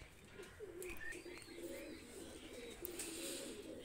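Pigeons coo in soft, repeated low rolls, a steady murmur from a few birds nearby with no talk over it.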